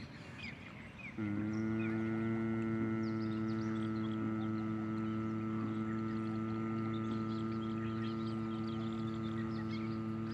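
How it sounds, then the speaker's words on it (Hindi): A steady, sustained nasal humming drones on a single low pitch, buzzing like a bee, with faint birdsong in the background. "नासिका मार्ग से वाइब्रेट की ध्वनि निकालेंगे भवरे जैसी आवाज़ में"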